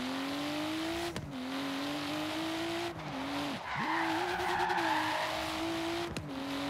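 A Toyota Supra in Forza Horizon 3 drones at steady engine pitch, then a handbrake skid brings a sustained tire squeal over the motor before it revs on.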